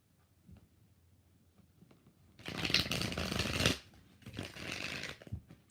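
Tarot cards riffle through a shuffle in one loud burst, then a second, shorter flurry after a pause, close by and with no talking.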